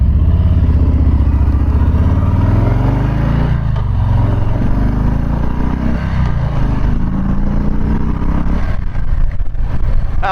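A Harley-Davidson Street Bob motorcycle with a 107 engine, heard while riding: a loud, steady V-twin rumble with shifting revs and wind rush, continuous and close.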